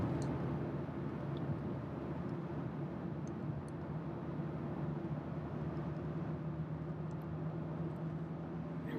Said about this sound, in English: you can hear the engine kick in